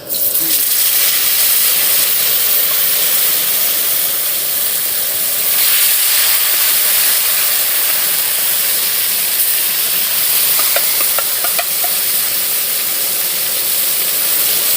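Mashed mango tipped into hot oil already sizzling with dried red chillies and five-spice tempering for a sweet mango pickle, giving a loud, steady hissing sizzle with a brief surge partway through.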